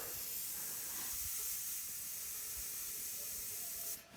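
A relief valve hisses steadily while car tyres are inflated, old cracked Volga rubber, a constant airy rush held at an even level for about four seconds before it cuts off, with a couple of faint low knocks underneath.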